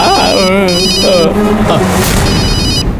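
A phone ringtone rings in repeated electronic bursts with short gaps during a TV serial scene, while people speak over it.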